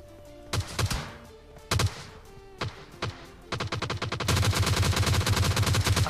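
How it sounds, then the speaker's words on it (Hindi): Gunfire in the video game PUBG Mobile Lite: a few sharp single shots spaced apart, then rapid automatic bursts that build into sustained fire, fairly close. "तभी देखो यहाँ पे पास में मतलब गन शॉट्स वगैरह आ रहे थे सामने की साइड से"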